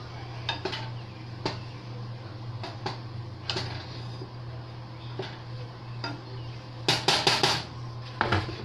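Metal colander and pots clank and clatter in a kitchen while pasta boils for veal parmigiana, with scattered knocks and a denser burst of metallic clinks near the end over a steady low hum.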